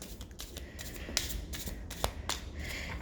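Tarot cards are shuffled by hand in a quiet room, a run of soft riffling and sharp flicking snaps at a brisk, uneven rhythm, close and moderately quiet.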